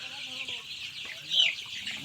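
Young chickens about ten to fifteen days old clucking and peeping close by, a few short calls with one sharper squawk, over a faint background.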